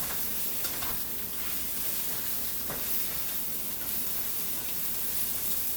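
Spinach and garlic cook in a pan for an egg omelet, making a soft, even, continuous sizzle and hiss throughout.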